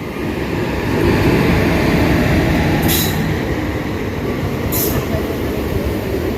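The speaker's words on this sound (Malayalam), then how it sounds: "ഇത് ഹസൻ ജംഗ്ഷൻ വഴി ബംഗളൂരിലേക്ക് വന്ന വണ്ടിയാണ്." The Kannur–Bengaluru Express, a South Western Railway train arriving via Hassan Junction, rumbles loudly past at close range in a continuous heavy roar of wheels and carriages, with two short high squeals of the wheels partway through.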